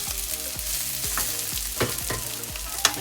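Beef frying in a pan for a stir fry with Brussels sprouts and mushrooms, a strong, steady sizzle with repeated stirring and tossing scrapes, up close and without talk.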